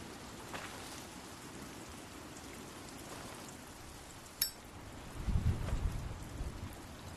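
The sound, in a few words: heavy rain in a video game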